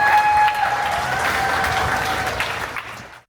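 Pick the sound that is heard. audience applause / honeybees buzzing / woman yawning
audience applause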